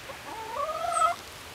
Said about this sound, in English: the chickens are keen to take part